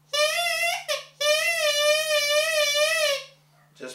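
A Welsh pibgorn's elder reed, a stick of elder with a tongue cut in it, is blown on its own: a bright, buzzy, sustained squawking drone that breaks briefly, resumes and wavers in pitch, close and loud.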